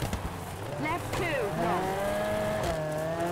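Rally car in WRC 2 sliding through a handbrake turn on the gravel roads of Greece's Acropolis Rally, tires squealing in rising and falling wails over a steady engine drone, with a voice talking briefly over the top.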